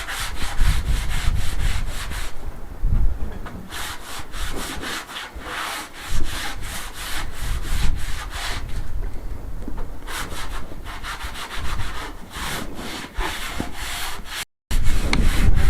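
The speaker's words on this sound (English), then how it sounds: "give this a bit of a wipe down because it's covered in dust" A dusty surface is wiped down during the restoration of a derelict Spanish finca, heard as close, steady, rhythmic rubbing strokes that brush back and forth with brief pauses and no talk.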